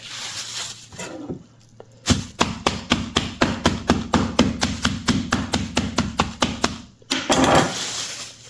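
Steady rhythmic thuds of a knife handle pounding meat on a board, about two dozen close, sharp blows in a row, with quieter handling before and after.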